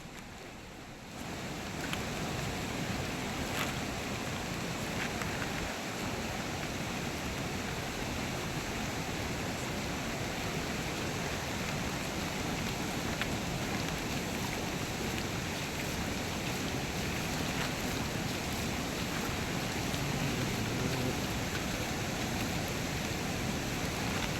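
Flooded Kapila river overflowing its banks near the Shishileshwara temple in Belthangady, a steady broadband roar of rushing water that holds constant and loud throughout with no voices.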